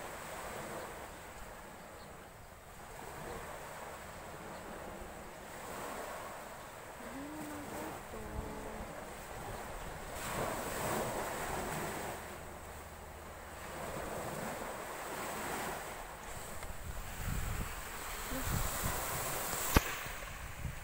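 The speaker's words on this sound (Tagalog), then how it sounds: "Dito na, dito na ito. Ang dagat." Ocean waves washing onto a sea shore, a steady broad surf wash with gusts of wind buffeting the microphone and a sharp pop near the end.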